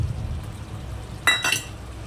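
Masala sautéing in oil in a pan, the oil separating as it cooks down before cashew paste goes in: a faint low background with two short, close scraping stirs in quick succession.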